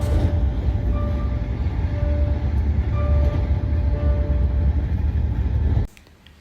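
Inside an Indian Railways passenger train running at good speed on a morning run from West Bengal into Assam: a loud, steady rumble and rattle of wheels and carriage that drops away abruptly near the end.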